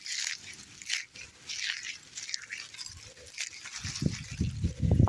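Quiet rustling near the mic, then crisp, brittle crunching and snapping of stiff frozen bamboo stalks in a garden grows louder toward the end.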